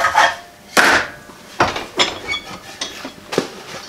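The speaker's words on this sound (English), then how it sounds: "A little deburring action here." A sawn cut in the wooden pickup bed of a Ford AA Doodlebug is deburred by hand, heard as close, loud rasping and scraping strokes, about six of them in an uneven rhythm.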